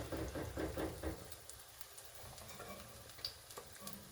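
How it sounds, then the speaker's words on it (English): Jamaican saltfish fritters sizzle and crackle in hot oil in a pot, with stirring and scraping clatters at the start, then a steady fry continuing close by. "we're getting the fish fritters right in the pot right now"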